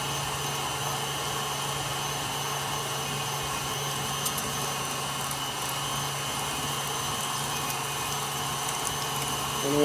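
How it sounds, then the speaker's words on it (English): An electric meat grinder grinds meat for smash burger patties, a steady close motor whine with a constant hum, running alone with no talk. "just showing you that I'm grinding it all up nice, getting it ready for forming some patties"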